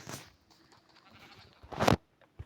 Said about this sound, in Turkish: Ha koyun geldi.